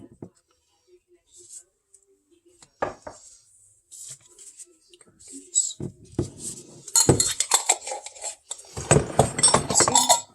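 Small bowls clinking and clattering on a board while a charcuterie spread is set up, scattered light taps early then a busier burst of ceramic knocks and rattles up close, with soft speech between.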